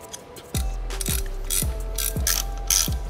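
A ratchet tightening 8 mm nuts on a BMW F80 M3 charge air cooler, loud close clicking pawl with repeated turning strokes in a steady rhythm.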